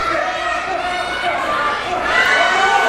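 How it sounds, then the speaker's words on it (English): Wrestling crowd at a ladder match roaring and screaming continuously, a dense wall of cheers and shouts that swells louder toward the end. "The crowd screaming."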